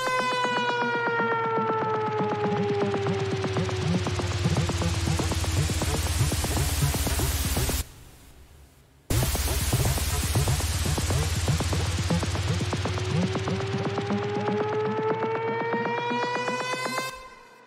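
A synthetic noise riser from the BOOM Library LiftFX plugin sweeps downward in reverse, drops out briefly, then sweeps back upward, loud and continuous with a gritty, driven texture and rising harmonic whistles.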